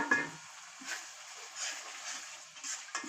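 Whole garam masala, black and green cardamom with peppercorns, stirred and frying in hot oil in a pan, giving a soft steady sizzle with light scraping strokes, close and fairly quiet.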